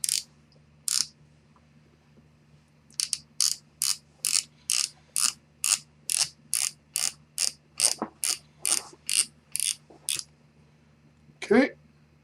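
Rapid series of sharp ratcheting clicks from unscrewing the side plate of a Daiwa Saltist LD35 two-speed fishing reel, evenly spaced close ticks in a quiet room with a faint low hum underneath.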